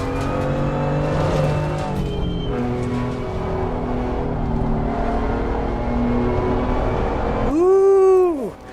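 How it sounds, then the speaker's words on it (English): Race car engine in the Assetto Corsa Competizione racing game, a loud sustained drone that shifts through gears and then revs sharply up and down near the end. "I'm getting distracted by the sound of the engine"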